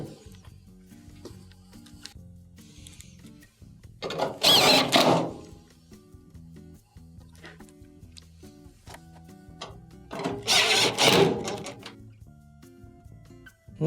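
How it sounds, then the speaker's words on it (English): A power screwdriver drives screws back into the panel of a Maytag dryer during repair, two loud buzzing bursts a few seconds apart with quiet clicks and handling between them. "Reattach your top 3 1/4" screws."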